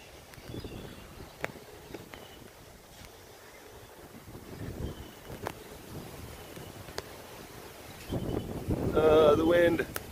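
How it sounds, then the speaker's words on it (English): Gusty wind buffets the microphone outdoors on a boat, building in low rushing surges, with a few faint clicks and a stronger blast near the end. "The wind."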